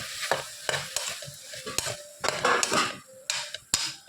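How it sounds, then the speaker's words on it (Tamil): Brinjal and potato sizzle in a hot pan while a utensil scrapes and stirs at irregular intervals, close up, with no talking. "நல்லா வதக்கணும்"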